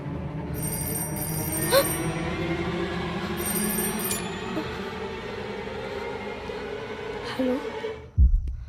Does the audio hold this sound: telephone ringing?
yes